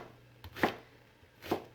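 Onions being cut with a knife, two distinct close chops spaced under a second apart against a quiet kitchen background, no talking.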